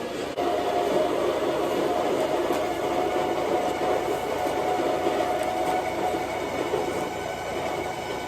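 A steady, loud mechanical whirring drone runs without a break, a coffee grinder working through beans at close range.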